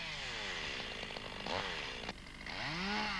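A chainsaw cuts branches off a felled tree, its engine loud and close, revving up and down in quick pitch sweeps as it bites into each limb.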